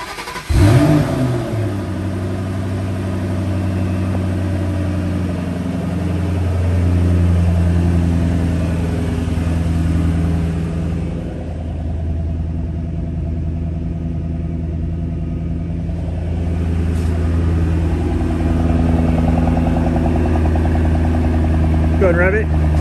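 A 2007 Shelby GT500 V8 fires up from cold with a loud catch and burst, then settles into a deep, steady, throbbing idle that stays close and constant throughout.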